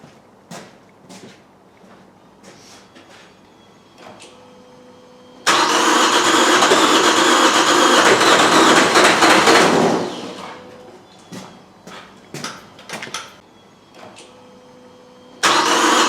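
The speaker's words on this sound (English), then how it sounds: "now I'm going to crank the engine." Light clicks and taps come first. Then a Vauxhall Astra J with the A17DTJ diesel engine and a no-start fault cranks loudly for about four seconds without catching. More quiet clicks follow, and a second burst of cranking begins at the end.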